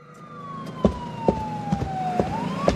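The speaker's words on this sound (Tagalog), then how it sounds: "Bakit may ambulansya?" An ambulance siren wails nearby in a steady rising and falling sweep, heard alone above a low rumble with rhythmic dull thumps recurring underneath.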